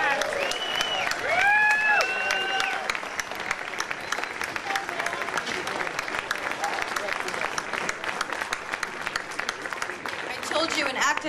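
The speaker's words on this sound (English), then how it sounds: "Another round of applause" Applause from a crowd gathered outdoors at a World AIDS Day candlelight vigil, steady clapping with a few cheers and whoops rising early on, continuing throughout at moderate loudness.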